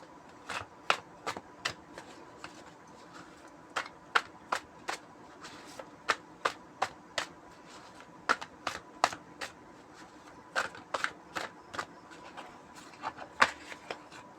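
Tarot cards from a cat-themed deck being shuffled and handled, giving a steady run of sharp, close papery snaps and taps at a quick, fairly regular pace over a soft background hiss, with no talking.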